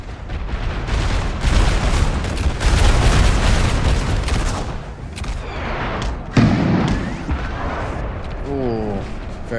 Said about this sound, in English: Ooh, very nearly great artillery shot.